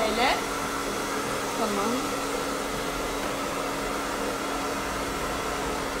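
A hair dryer blows steadily to dry paint on a galvanized metal object, a continuous close whooshing roar filling the whole stretch, with a brief spoken word near the start.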